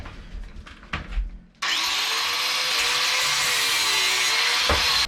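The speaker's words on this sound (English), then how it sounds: "The next step for this is to cut the piano hinge." A power saw cuts through a piano hinge after a few handling knocks, then runs in a loud, steady, close whine with a bright metallic rasp that holds for several seconds.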